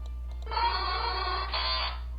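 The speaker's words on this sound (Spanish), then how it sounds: "Es Drowsy. Porque Electro le hace." Drowzee's cry from a Pokémon video game: a few quick electronic blips followed by a buzzy, warbling synthetic call that holds for over a second and brightens near the end, alone over a low background hum.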